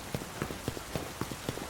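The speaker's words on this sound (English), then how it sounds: "It is raining." Rain patters on a surface in a quick, fairly even series of soft taps, faint and close, with a steady wash of noise underneath.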